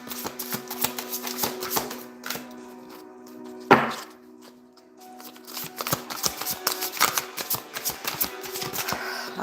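Tarot cards are shuffled by hand in rapid clattering bursts of riffling and tapping, close and crisp, with a brief louder snap partway through and no talking.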